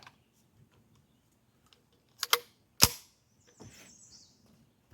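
A .22 LR rifle fitted with a reflex sight firing at about 120 yards: two sharp, fairly faint cracks about half a second apart, then a softer tail and a distant ringing ding, in an otherwise quiet outdoor setting.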